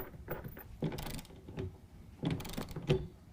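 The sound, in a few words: tightening tonneau cover clamp bolt with ratchet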